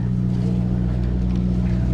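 A fishing boat's motor runs at a steady, low drone close by, with no other sounds standing out.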